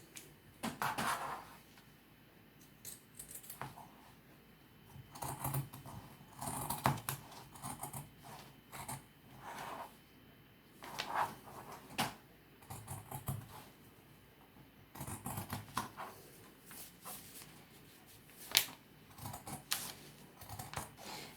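Sharp scissors snip through T-shirt fabric in a run of short, close, crisp cuts, the blades clicking and rasping in an uneven rhythm with brief pauses between strokes; no one speaks.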